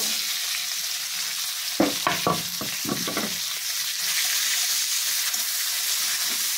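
Chopped onions and green chillies frying in a pan for crab masala give a steady, close hiss, broken early by a short burst of clattering stirs.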